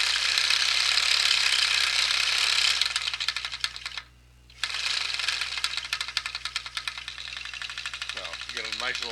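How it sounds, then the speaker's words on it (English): A handmade 1/5 scale tunnel ram engine idles slowly, a dense mechanical ticking and clattering with a steady whirring fan beneath, cutting out briefly before resuming with a rocking rhythm, loud and close. "So you get a nice little slow idle out of it. Has a nice little tick and tack as it rocks away."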